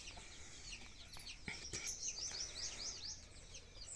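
Desi hens on a poultry farm clucking and calling in short bursts against a steady noisy background, faint to moderate and somewhat distant, with no talk.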